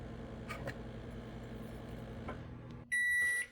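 A microwave oven hums steadily while heating food, a low continuous drone with faint clicks, then stops and gives a loud, sustained completion beep near the end.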